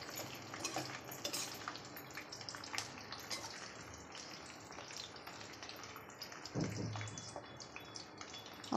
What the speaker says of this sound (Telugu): చూడండి ఫ్రెండ్స్, వేగుతున్నాయి.